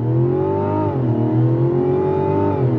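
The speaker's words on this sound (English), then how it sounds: "Let's go on throttle in this Mazda CX-90." A 2024 Mazda CX-90 in sport mode accelerating at full throttle, its engine drone rising and easing through a smooth 8-speed automatic shift, loud and steady from inside the cabin with no talk.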